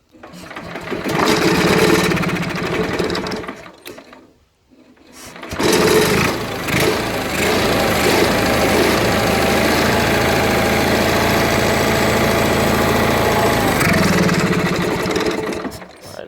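An Onan 4kV generator engine cranks briefly, cuts out for a moment, then catches and runs at a steady, loud, buzzing idle for about ten seconds before easing off.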